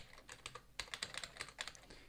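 Someone types on a computer keyboard while coding a simple C++ hangman game, a quiet run of quick irregular key clicks close by with no talking.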